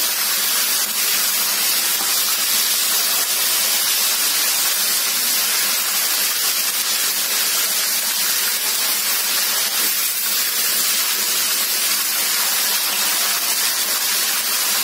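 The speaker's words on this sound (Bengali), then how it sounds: "একটু সাবধানে রাখবেন, কারণ মুরগি কিন্তু খুব ছিটা শুরু করে।" Chicken pieces fry in a little hot oil with a dense, continuous hiss of spattering. The sound is loud and even from start to finish, with nobody speaking.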